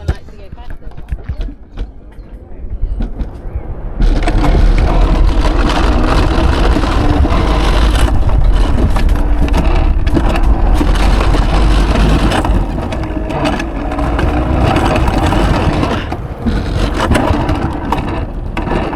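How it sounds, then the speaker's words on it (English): An alpine roller coaster sled at Straža Bled by Lake Bled runs along its track with the speed limiter engaged, giving a steady loud rumbling whir mixed with wind rush that kicks in after a quieter start and persists throughout. "Although you hear that noise, I think that's the speed limiter."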